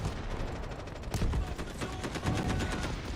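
Rapid gunfire rattles in a first-person shooter video game battle: dense, loud bursts of automatic shots with heavier booming blasts mixed in, continuous across the whole stretch without speech.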